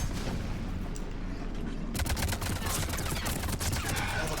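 Dense battle gunfire from the video game Mass Effect 3, sustained shots and booming bursts layered over one another, growing busier and louder about halfway through with a faint voice underneath.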